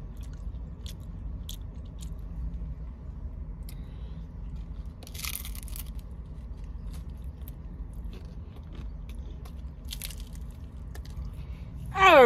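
Tacos are eaten in a twelve-taco mukbang challenge, giving close, soft chewing and occasional crunchy bites at a slow irregular pace, with a short louder bite near the middle and a sharp burst of noise at the very end.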